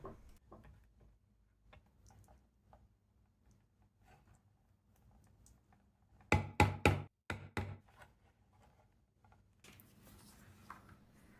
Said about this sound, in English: And here you just want to rivet them in place.